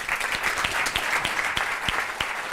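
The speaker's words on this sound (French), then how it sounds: "Je vous demande d'applaudir la rubrique du professeur Odysseus." Studio audience on a French television show applauding, a dense, steady clapping that stays even and fairly loud throughout with no voices over it.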